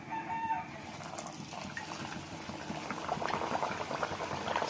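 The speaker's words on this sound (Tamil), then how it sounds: "இப்போ எண்ணெயில் விட்டுக்கலாம்." Sajja appam sputters in hot oil with a continuous bubbling, boiling fry sound that is close and moderately loud. It grows slightly busier toward the end, with no talking.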